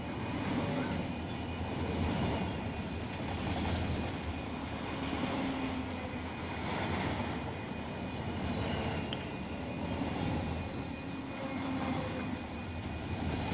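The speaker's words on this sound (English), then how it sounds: "Those are the brakes kicking in." Brakes applying and air flowing through the train line of a BNSF ES44DC hauling a high-priority intermodal in Run 8 Train Simulator, a steady rushing roar with a faint high squeal near the end, continuous and unbroken.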